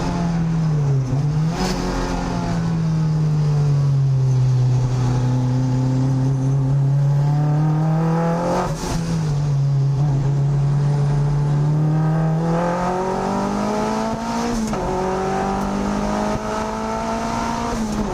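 A Mazda MX-5 race car engine roars steadily at high revs on a hot lap at Winton Raceway, pitch climbing and dropping with each gear change, loud and close, with no voices.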